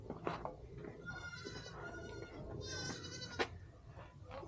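A breeding buck goat bleats in quavering calls, a short one near the start and a longer, louder one midway, against a steady outdoor farm background with faint voices around.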